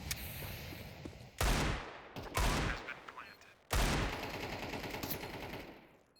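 Bursts of gunfire in a Counter-Strike match on the Mirage map: three loud volleys of rapid shots, each trailing into sustained firing, with brief lulls between them.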